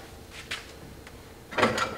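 Small ashtray in an abandoned 1976 MG Midget sliding open, heard as a couple of faint light clicks followed by a brief, louder scraping slide near the end, close and quiet with no talking.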